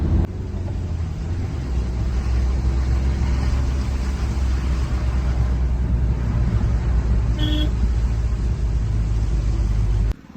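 Steady engine drone of a jeep on a fog-covered hill road at Munnar's Second Mile, holding at an even level throughout with a brief high tone near the end before cutting off.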